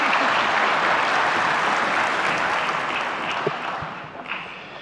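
Steady, loud audience applause filling a conference hall at the opening session of the XII Lisbon Forum, sustained evenly and tapering slightly at the end.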